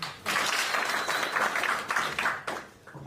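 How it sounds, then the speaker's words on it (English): An audience claps for a presenter at an iDE inaugural live event, a steady dense round of applause that holds for about two seconds before thinning out into a few scattered claps. "If it's great, can you clap?"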